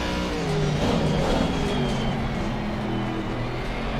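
A car races past on a track, a loud sustained engine roar that swells and holds steady, close and continuous.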